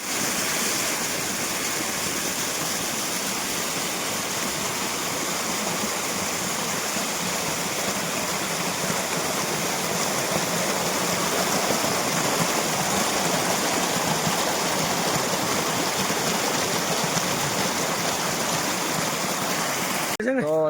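A mountain stream flows down from above beside a small village on the trail to Rudranath in the Kedarnath region. It makes a continuous, loud, close rushing and splashing that stays even throughout, with no other sound over it.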